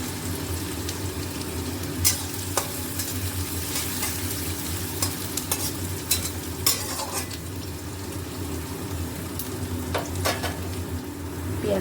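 Onions sizzle steadily in hot oil in a kadai while a utensil scrapes and taps against the pan now and then, close and fairly loud, with no talking.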